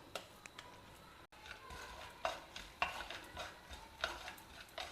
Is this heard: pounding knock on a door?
no